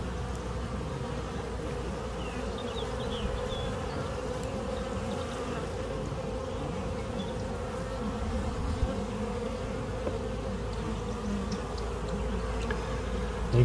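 A honeybee swarm settled on the ground buzzes in a dense, steady drone, close and continuous, with no voices.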